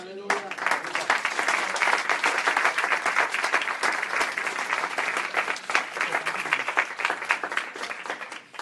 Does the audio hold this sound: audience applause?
yes